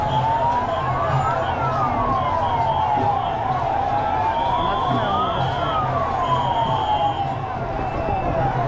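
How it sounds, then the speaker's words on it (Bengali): An ambulance siren wails in rising and falling sweeps through a dense crowd at the Puri Rath Yatra festival, loud and continuous over a constant background of crowd noise and voices. "আমরা অ্যাম্বুলেন্সের আওয়াজ শুনে নিশ্চয়ই বুঝতে পারছো"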